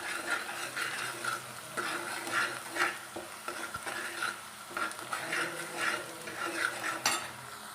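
Chopped onions fry to golden brown in a pan, a steady sizzle broken by repeated scraping stirs of a spoon at an even pace, close and clear with no speech.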